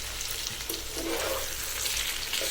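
Potato bhaji with fish roe frying in a pan, a loud close sizzle with spatula scraping and stirring throughout.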